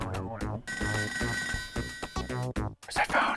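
A video game telephone rings in a steady electronic trill, loud and continuous for most of the moment, with brief breaks, music, and a short burst of noise near the end.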